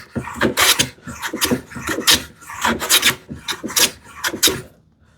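Hand plane strokes with a finer-set No. 4 plane shaving wood, a steady series of about ten rasping passes, close and fairly loud, each stroke a brief hiss with short pauses between.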